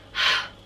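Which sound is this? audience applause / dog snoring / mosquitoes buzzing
dog snoring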